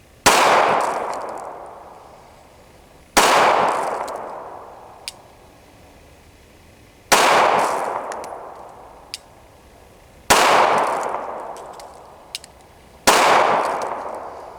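A Glock custom carry pistol fires five sharp, loud single shots spaced a few seconds apart, each followed by a decaying ring, with faint metallic clinks between shots. No talking.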